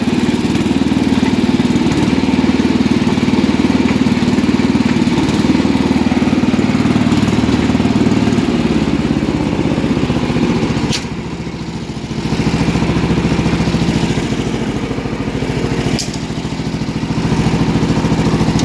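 A 1978 Yardman Snowbird snowblower engine runs steadily, a loud continuous small-engine drone with clattery texture, briefly dipping in level midway before resuming.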